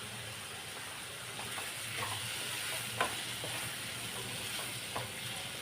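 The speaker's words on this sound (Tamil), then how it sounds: "இந்த தக்காளி நல்லா பேஸ்ட் ஆகிற அளவுக்கு நம்ம வதக்கணும்." Onion and tomato sautéing with turmeric and garam masala in a pan for egg bhurji, a soft continuous hiss of frying with occasional light clinks and scrapes of a spoon stirring.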